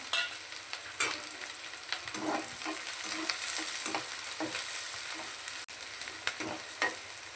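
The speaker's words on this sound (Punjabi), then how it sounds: "ਹੁਣ ਪਾਵਾਂਗੇ ਇਹਦੇ ਵਿੱਚ ਆਪਾਂ ਪਿਆਜ਼" Finely chopped onions, three of them, fry in hot oil with a continuous sizzle and repeated spatula stirs and scrapes up close. The sizzle holds through the clip, briefly dropping near the end, and nobody talks.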